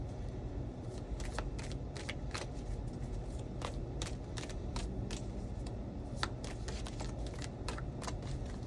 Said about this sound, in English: Hard to shuffle too. It's a big deck,